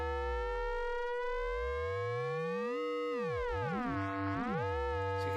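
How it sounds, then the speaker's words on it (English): A Novation Peak synthesizer plays a held tone as oscillator 3 modulates the filter, producing sweeping, siren-like harmonic glides that rise and fall through repeated swoops, loud and continuous with no voices. "that's just oscillator 3 controlling the filter"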